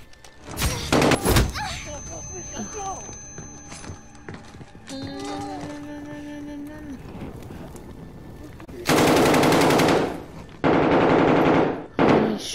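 Gunfire in a Modern Warfare campaign mission, with sharp close shots early on and then two loud sustained automatic bursts near the end over a background of game ambience and sound effects.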